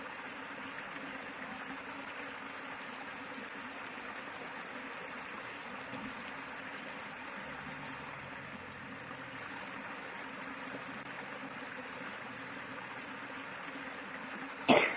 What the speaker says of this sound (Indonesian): air mengalir begitu indah, suaranya gemercik air membuat hati dan pikiran kita tenang di sini